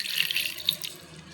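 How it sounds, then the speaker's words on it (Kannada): Water runs steadily from a tap into a mixer jar of ground green gram and jaggery, a close, continuous splashing hiss. "ಇವಾಗ ನೀರು ಸೇರಿಸ್ಕೊತಾ ಇದ್ದೀನಿ"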